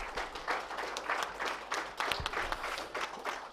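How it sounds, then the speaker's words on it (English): A round of applause at the YOSICon 2024 conference for the organising team, a moderate crowd clapping in a steady patter of separate claps at middling distance, no speech over it. "Let's give another round of applause for Team YOSI."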